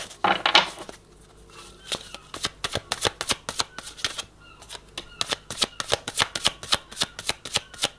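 Tarot cards are shuffled in a fast, rhythmic run of crisp riffling snaps, close and fairly loud, continuing steadily with no talk over them.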